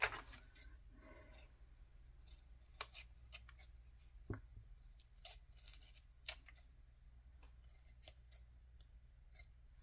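Scissors cutting around a glued paper layer for a junk journal, with many short, crisp snips spread irregularly over a low steady background hum, close and quiet.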